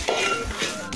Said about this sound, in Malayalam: ഇപ്പോൾ നമുക്ക് ക്യാരറ്റ് വഴറ്റിയെടുക്കാം